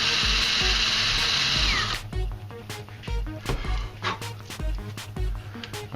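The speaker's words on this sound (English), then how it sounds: "I really should learn not to drill into my workbench." A handheld power drill whines at high speed while boring a cotter pin hole in a part for a backpack camera rig, then shifts to uneven grinding and knocking as the bit breaks through into the workbench, close and alone.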